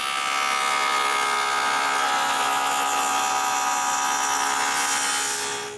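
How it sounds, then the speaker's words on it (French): A table saw blade with its height lowered, cutting wood tenons at the ends of cabinet rails for a bathroom vanity; a loud, continuous high whine held steady for several seconds, then tapering off. "je dois baisser la lame pour couper l'autre côté"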